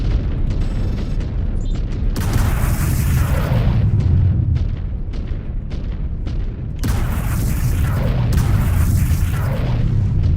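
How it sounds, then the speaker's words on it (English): Mechs explode in the video game Mechwarrior 5: Clans with deep, loud booms, two long rumbling blasts separated by a stretch of rapid weapon fire and mechanical clatter. "Let's get up here and blow up some mechs while they are asleep"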